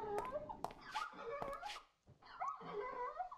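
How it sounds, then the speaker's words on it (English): Dogs in a Minecraft modpack world yip, whimper and bark in short repeated bursts at moderate distance, with a brief lull midway before the barking resumes. "Why can I hear dogs?"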